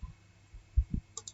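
Several sharp, dry computer mouse clicks spaced irregularly against near silence, close and crisp, during work in a statistics program.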